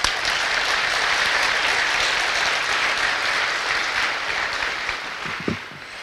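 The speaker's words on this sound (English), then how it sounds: "Another round of applause," A large audience at a Prince George's County Fire/EMS fire academy graduation ceremony gives a sustained round of applause that thins out toward the end, with a brief voice near the close.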